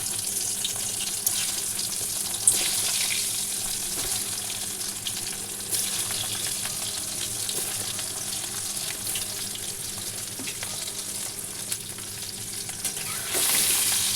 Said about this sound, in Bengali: এরপর আলুগুলোকে ভেজে নেওয়ার পালা